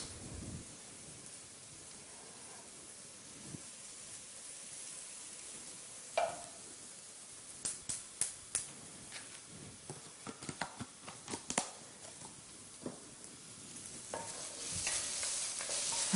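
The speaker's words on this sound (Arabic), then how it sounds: "في البصل اللي راه تقلى" Onion frying in fat in a pan, a steady soft sizzle throughout, with a run of sharp utensil taps and scrapes from stirring partway through.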